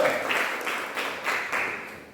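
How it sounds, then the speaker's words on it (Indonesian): A church congregation gives a short round of applause during a sermon, with moderate, somewhat distant clapping in a few swelling waves that then fade. "Beri tepuk tangan dong, ini orang hebat."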